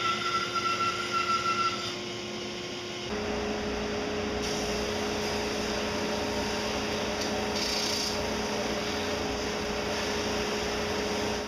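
A power sander works a small wooden knick-knack shelf, its steady, close whirring drone running unbroken for several seconds after a brief lower hum at the start, with no voices.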